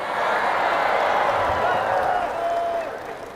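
A dense wash of applause rises from the audience at an Islamic lecture, a broad sustained clatter of many hands that holds steady, then gradually thins toward the end, with a voice faintly mixed in.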